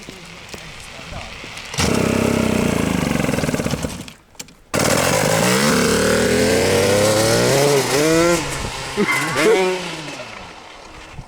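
A small go-kart engine revs and bogs in bursts, loud and close, its pitch climbing and falling through rough acceleration, with people talking over it.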